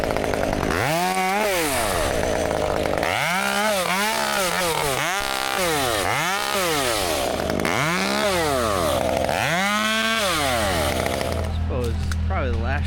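A chainsaw with a worn, many-times-sharpened chain cuts through wood, loud and close, its engine revving up and dropping back in repeated bursts for several cuts.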